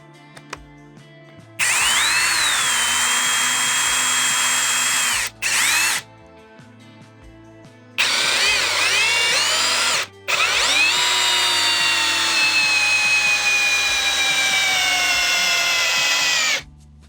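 A Procraft PA12BL compact brushless cordless screwdriver drives a 145 mm long, 8 mm diameter lag screw into wood in loud sustained bursts, its motor whine dropping in pitch under load, with brief pauses between runs.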